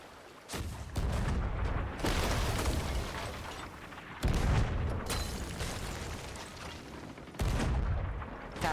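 Cannon fire in a pirate roleplay video game, several heavy booming blasts at irregular intervals, each followed by a long rumbling roar, loud and close.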